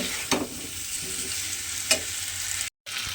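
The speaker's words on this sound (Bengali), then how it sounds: "মশলার সঙ্গে আলুটা একটু আমি এইভাবে কষিয়ে নেব" Potatoes frying with spices in a pan for a vegetarian curry, a constant close sizzle broken by a few scraping stirs and one brief dropout.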